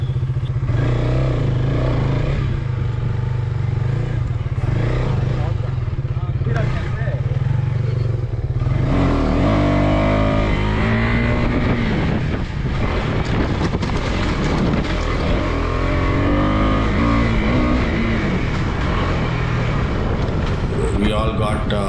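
KTM 250 adventure motorcycle on a race track during practice, engine droning steadily with a rising rev note after a low idle, wind buffeting the microphone throughout and a voice speaking over it.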